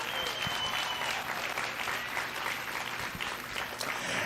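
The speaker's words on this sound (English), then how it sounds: "Give these kids and exhibitors and families a nice round of applause." Crowd applause at a junior livestock showcase at the Cache County Fair & Rodeo, a steady wash of clapping from a crowd, distant and even throughout.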